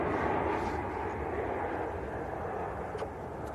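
A Qatar airliner lines up for takeoff at Manchester Airport, a steady, moderately distant jet engine rumble and whine that eases slightly toward the end, with wind noise mixed in.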